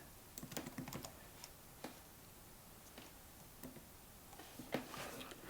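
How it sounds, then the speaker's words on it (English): Computer keyboard typing during a programming session building an F# chatbot, heard as quiet scattered keystrokes and short bursts of clicks with pauses between, no talking. "It's a bit tedious typing these in."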